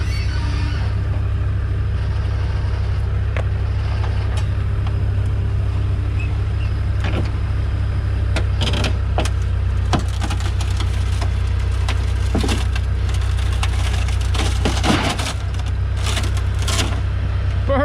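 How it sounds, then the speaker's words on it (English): A skid loader works at peeling the hood off a salvage car, its engine a loud, steady low rumble throughout, with scattered metallic creaks and bangs close by. "So why not just peel it off with a skid loader?"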